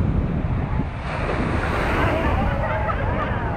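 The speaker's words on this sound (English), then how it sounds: "See, that's what I meant when I say sneaker waves." Large sneaker waves crash and surge around the Pacifica pier in a steady, loud roar of surf, with heavy wind buffeting the microphone throughout.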